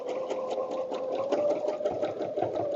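Sewing machine stitching through a layered quilt, a close, continuous mechanical whirring hum with a fast steady needle rhythm and no voices.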